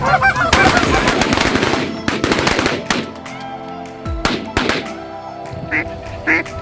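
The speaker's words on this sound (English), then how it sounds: "Geese out front." Geese honking during a Kansas mallard duck hunt, repeated loud overlapping honks and calls close by, dense at first and then thinning into scattered bursts with brief pauses.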